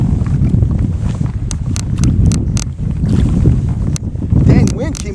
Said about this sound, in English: Dang wind came out of nowhere